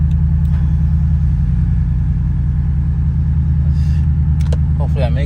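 A 2022 Chevrolet Silverado with a faulty brake pedal switch drives along with a steady, heavy low engine rumble heard from the cab, while someone talks over it and a few light clicks sound near the end.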